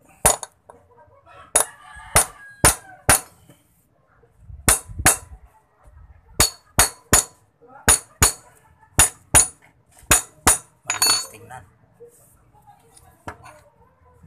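Sharp metallic hammer strikes on a metal frame piece during welding and fitting work, in quick bursts of two to four blows separated by short pauses, close and loud with no talk.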